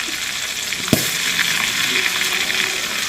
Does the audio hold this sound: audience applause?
no